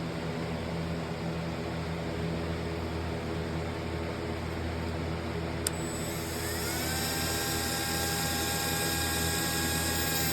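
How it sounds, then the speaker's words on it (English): A small Dremel rotary tool whines steadily while cutting through a throttle cable housing and cable during a BMW LS swap, a constant high-pitched motor tone that shifts pitch partway through, alone and at moderate level. "to cut the cable housing and the cable with a small Dremel"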